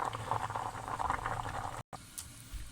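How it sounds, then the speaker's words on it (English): A potato boils in a pot of water for lamb curry, a quiet, continuous bubbling simmer with a brief dropout partway through. "the potato has been boiling for another 5 minutes or so."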